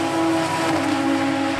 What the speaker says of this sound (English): head round Murray's and accelerate along the centre straight